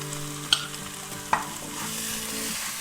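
White mustard seed and green chilli paste going into frying masala for an okra dish, a steady sizzle with two sharp clinks of a utensil against the pan, near and without speech.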